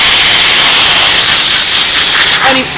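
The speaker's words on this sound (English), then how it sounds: "What I'm going to do is actually blow some steam right through it, which is going to clean everything that's in there out." Steam blasts through a motorcycle carburetor to clean it out, a loud, steady hiss that runs without a break from start to finish.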